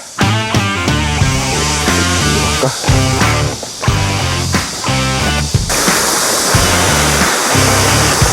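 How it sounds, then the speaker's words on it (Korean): A shallow stream at a bass-fishing spot rushes downhill as steady, loud, broadband water noise, with rhythmic background music playing throughout. "물이 시원하게 내려가고 있어요. 조금 더 많은 양이 내려가면 좋았을 것 같은데 여기 시원하게 지금 내려가고 있습니다."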